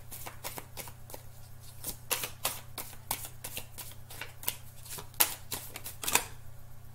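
Fallen tarot cards being gathered and handled, with a steady run of crisp, close card flicks and slaps in quick irregular bursts over a low constant hum, and no talking.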